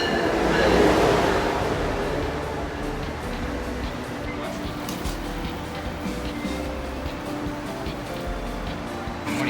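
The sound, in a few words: Amtrak Acela Express train arriving at station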